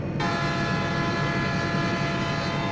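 Freight train with GE GEVO locomotives in a Train Sim game, a loud, steady rumble of rolling rail cars with a sustained horn-like tone sounding throughout.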